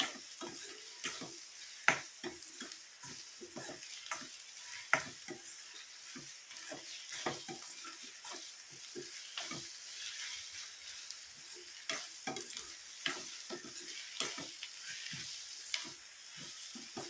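Sliced onions sizzle and fry in a pan as they are stirred steadily, with a continuous crackle broken by frequent small scraping ticks of the spoon, close and moderately quiet, no talking.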